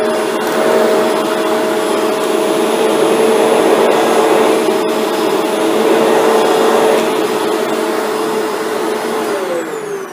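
Shark vacuum cleaner running indoors with its brush roll switched off, a loud, steady close motor whine and airflow roar that holds evenly throughout.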